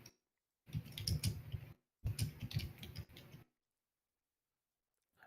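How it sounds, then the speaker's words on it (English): Computer keyboard typing in two dense bursts of rapid, steady clicks, each lasting over a second with a short pause between, fairly close and alone, followed by near silence. "So I hear you typing away."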